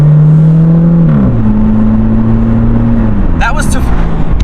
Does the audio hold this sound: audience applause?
no